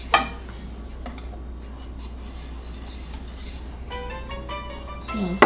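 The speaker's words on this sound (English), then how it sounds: "we'll stir in the waffle mix" Waffle mix being stirred in a bowl, heard as faint scraping with scattered light clinks of a utensil against the bowl, quiet and close.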